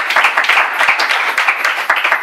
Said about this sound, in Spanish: os pido un aplauso para la siguiente